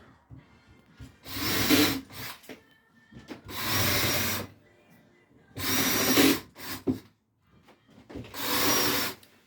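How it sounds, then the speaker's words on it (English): Three bursts of a power drill boring into wood, each lasting about a second with short gaps, loud and close, with faint clatter between. "drilling holes in wood."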